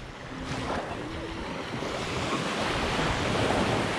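Ocean waves washing ashore on Orange Beach, Alabama, a continuous broad surf roar mixed with wind noise on the microphone, steady and fairly loud with no talking.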